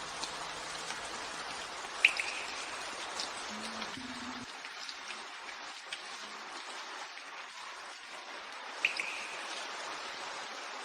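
Heavy rain falling steadily, a constant hiss of drops on surfaces with a couple of brief higher chirps over it.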